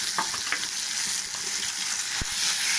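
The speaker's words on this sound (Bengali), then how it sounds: "তো এখানে আদা কাঁচা লঙ্কা দিয়ে দেওয়া হলো, সবগুলো ঝাল হয়ে যাবে।" Ginger and green chilies frying in a pan, a steady sizzle with faint stirring clicks throughout, no voices.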